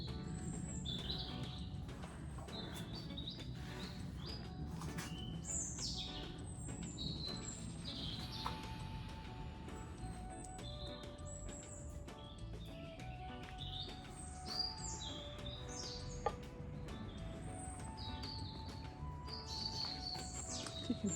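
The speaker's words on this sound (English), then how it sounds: "You can hear the birds" Early morning birdsong beside a reservoir near Ladybower and Derwent Dam, with many small birds chirping and trilling at moderate distance over a soft, steady outdoor background.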